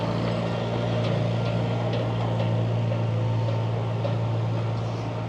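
An antique power shovel's engine runs steadily at an outdoor antique machinery show in Connecticut, a loud continuous low drone with faint scattered clatter throughout.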